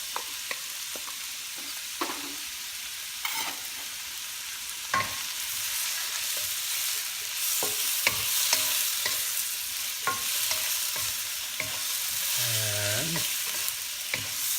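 Shrimp fry in oil for pancit bihon guisado, a steady close sizzle broken by repeated spatula clatters and scrapes against the pan, with no talking.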